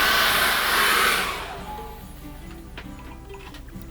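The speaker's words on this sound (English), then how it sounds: "I'm going to dry that again with a hairdryer" A hairdryer blows loud and steady to dry acrylic paint on a Christmas painting, then cuts off after about a second and a half, leaving faint room noise and light clicks.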